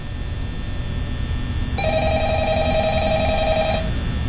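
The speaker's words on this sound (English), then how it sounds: "Are you not gonna answer the phone or something?" An old-style telephone rings with a steady electronic trill in the horror video game Five Nights at Freddy's, one sustained burst of about two seconds over a low background hum.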